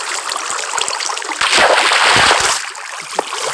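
Flowing water in a Minecraft game: a hissing, splashing rush that swells louder for about a second midway, then drops back to a softer trickle.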